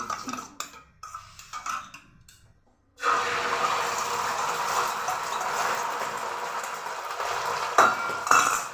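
Egg dropped into hot oil in a pan, first faint clinks and handling clatter, then a sudden loud, steady frying sizzle that continues close up with a couple of sharper crackles.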